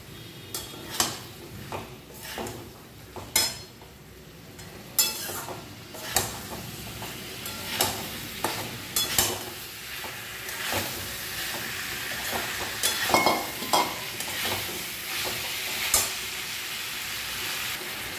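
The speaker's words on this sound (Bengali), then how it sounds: "এবারে ফুলকপি আর আলুটা যে ভেজে রেখেছিলাম ওটাকে দিয়ে আবার একটু কষবো।" Fried cauliflower and potato stirred and sautéed in a pan, a steady close sizzle broken by repeated scraping and clinking strokes of a spoon against the pan, with no talking.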